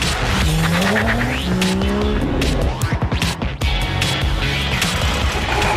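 A race car accelerating hard with loud, rising engine whine and screeching tire squeal, followed by a rapid rattling burst and continued dense, roaring motor noise throughout.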